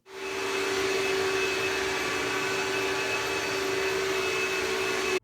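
An iRobot Braava 450 floor cleaning robot runs with a loud, steady whirring drone and a fixed motor whine, starting abruptly and holding constant close by.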